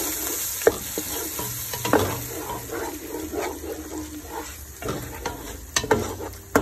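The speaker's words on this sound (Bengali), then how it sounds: "এটি আমি এখন ভালো মতো নেড়ে চেড়ে কষিয়ে নেব।" Cauliflower seasoned with salt and turmeric sizzles in a pan while being stirred, with repeated scrapes and clacks of a utensil over a soft, continuous frying hiss.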